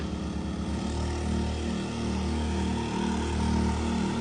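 Two 4-inch long-shaft water pump engines with 4-metre shafts rev side by side, loud overlapping droning tones that waver and swell in pitch together, close and continuous with no voices.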